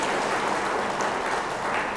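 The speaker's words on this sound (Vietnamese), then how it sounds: "một tràng pháo tay thật lớn nữa." A wedding mass congregation in a Vietnamese parish church gives a big, continuous round of applause for the newlyweds, a dense steady wash of clapping with no break.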